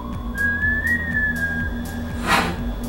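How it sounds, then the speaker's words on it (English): A man whistles a bright, sustained melodic line that rises and falls slightly, loud and close. Two brief breathy bursts come near the end over a steady rhythmic backing track, with no talking. "He even knows how to whistle"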